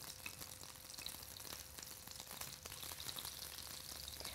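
Foie gras escalopes fry in a pan with a steady, quiet crackling sizzle and scattered small pops throughout, with no talking.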